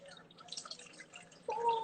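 Liquid poured over chocolate in a glass for a cocktail infusion, a faint trickle and drips that become a fuller, steadier pour toward the end, close up.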